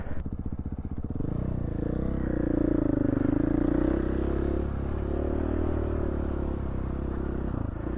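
Dirt bike ripping along a desert race course in Idaho, its engine droning loud and steady close to the rider, with brief clatter and wind at the start.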